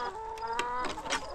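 Chickens in a chicken tractor on a ranch cluck nearby. A few short, throaty clucks and calls overlap across about a second and a half, with no talking.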